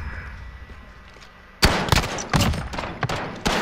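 Pistol gunshots ring out in a video game firefight: after a quiet stretch, a loud burst of several sharp shots lands close together, with another shot near the end.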